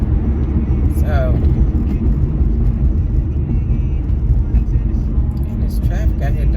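Steady road traffic rumbles outside, a continuous low wash of passing cars with a faint whir on top that never lets up.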